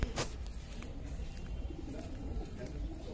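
Pigeons coo and shuffle on a village rooftop loft, soft low calls close by over a murmuring background, with a brief louder burst at the start.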